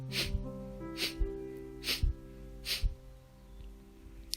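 Slower breath of fire yoga breathing, a series of sharp nasal exhalations roughly every three quarters of a second, close and fairly quiet, fading into a pause at the end.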